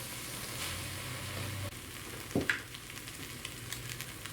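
Flour cooks in the bottom of a ground beef stew pot, a soft steady sizzle with a brief louder scrape or clatter midway, near and unaccompanied by talk.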